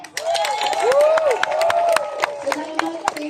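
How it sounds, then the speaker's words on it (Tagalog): A crowd at a public gathering in Pampanga claps and cheers for senators, with scattered sharp handclaps and raised voices mixed with shouting and talk. "Palakpak."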